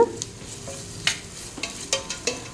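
Ginger garlic paste sizzles in hot oil while being stirred in a pan for paneer biryani, a soft steady fry broken by several short scraping stirs, close and fairly loud.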